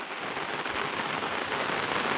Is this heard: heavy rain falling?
yes